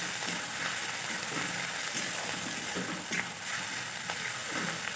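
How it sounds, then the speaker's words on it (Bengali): Ginger-garlic paste sautéing with jackfruit in a pan, a steady close sizzle and fry with light stirring scrapes running throughout, no voices. "আদা রসুনটাও ভালোভাবে কষে নেব"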